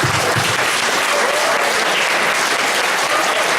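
Audience applause at an improv theatre show fills the room, dense and loud continuous clapping from a crowd that holds steady for a few seconds.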